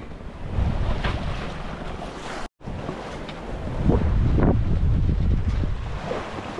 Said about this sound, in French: On a du vent, c'est déjà ça.